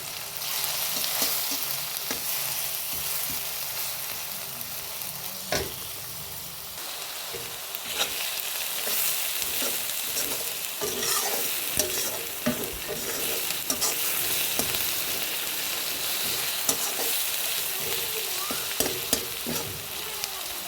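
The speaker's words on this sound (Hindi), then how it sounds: "अब इसमें प्याज लहसुन अदरक का पेस्ट फ्राई कर देंगे।" Onion, garlic and ginger paste fries in reheated cooking oil with a loud, steady sizzle and crackle, broken by repeated scraping stirs of a spoon through the pan, with no voices.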